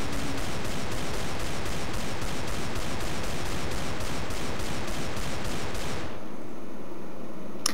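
Desert Eagle pistol fire in CS:GO: a fast, evenly spaced string of loud shots for about six seconds, then it stops abruptly and quiet follows.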